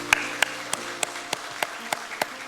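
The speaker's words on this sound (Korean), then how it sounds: "크신 예수님께 영광의 박수 올려드립니다" A church congregation claps in a slow, sparse rhythm, about ten distinct claps spaced evenly, soft and moderately distant with no talking.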